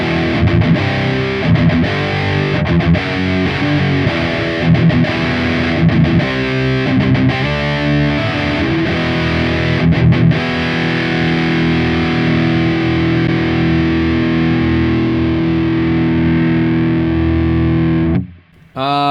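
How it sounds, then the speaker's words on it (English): SLO 100 lead channel modeled on a Hotone Ampero, played as heavily distorted electric guitar: loud sustained lead lines and chords with thick saturation that ring on and then cut off abruptly near the end. "we're going to dial in the lead channel on this"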